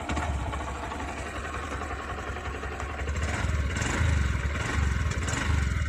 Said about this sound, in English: Now let's start the vehicle.